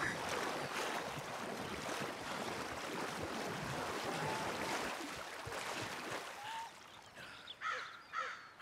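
Deep water sloshes and splashes in Red Dead Redemption 2. A continuous rushing wash is heard with wind and a crow cawing, and it thins out toward the end into scattered splashes.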